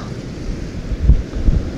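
Strong early-morning wind at Selin Co lake in Tibet buffets the microphone in low rumbling gusts, loud and close, with no talking.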